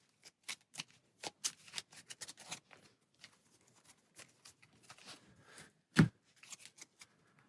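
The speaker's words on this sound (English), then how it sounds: "We'll shuffle our deck one last time and then get our starting hand of cards." A deck of Arkham Horror card-game cards is shuffled by hand on a tabletop, a series of quick soft riffles and slaps in uneven bursts, close and fairly quiet, with one sharper knock near the end.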